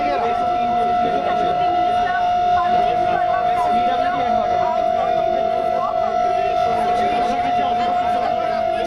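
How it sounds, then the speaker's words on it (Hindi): A loud, steady air raid siren being tested in Delhi wails continuously without rising or falling, while a crowd murmurs and voices talk underneath. "ये सायरन की टेस्टिंग की जा रही है"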